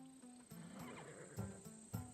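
A horse in Assassin's Creed Odyssey, a Macedonian breed bred for battle, gives short snorts and whinny-like bursts at a low level, with two clearer calls near the end over a steady game ambience.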